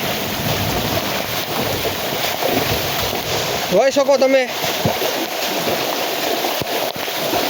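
Floodwater from heavy rain rushes through a waterlogged banana field in Umej village, Una taluka, a steady loud wash with rain noise throughout, while someone talks over it.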